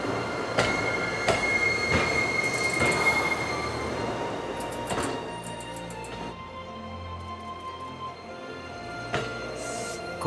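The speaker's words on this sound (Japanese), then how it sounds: "工場の中で前進と後進を切り替え、繰り返し走行試験を行います。" TX-3000 series train running forward and reverse inside a factory during repeated test runs, with loud wheel squeal and rumbling rail noise throughout, sharp clanks near the start and at intervals, and no speech.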